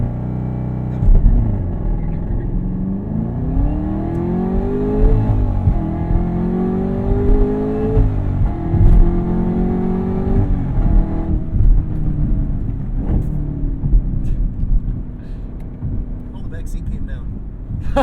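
A 2021 Chevrolet Camaro ZL1 launches hard after the clutch is released, its engine roaring loudly through several rising rev sweeps that drop back at each gear change, with voices underneath.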